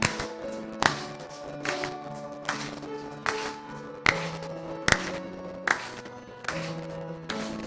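Church congregation clapping along to a worship song, with sharp, evenly spaced claps roughly every second over the music.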